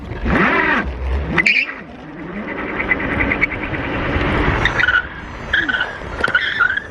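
An electric scooter braking hard with the rear brake so the tyre skids and squeals on pavement, a loud close screech over motor whine lasting most of the stretch, with a few sharp chirps.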